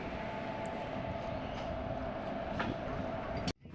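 A passenger train shunting and coupling at Nagercoil Junction gives a steady low rumble with a faint sustained hum and a few soft knocks, cutting off abruptly near the end.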